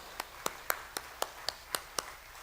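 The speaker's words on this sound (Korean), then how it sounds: "다시 한번 더 크게 축복의 박수 부탁드리겠습니다" Clapping at a Friday church prayer meeting, a run of eight crisp, evenly spaced claps in a steady rhythm, moderately close and fairly faint over a quiet room.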